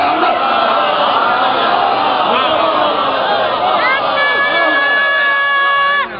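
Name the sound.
audience chanting religious slogans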